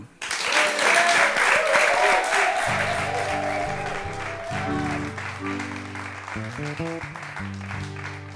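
An audience applauds a band at a live podcast show, loud sustained clapping that continues as music starts up underneath partway through.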